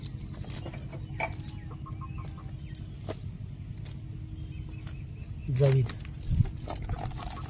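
Chickens cluck at a rural Sundarbans home, with one louder burst of clucking near the end, mixed with close talk and household background noise.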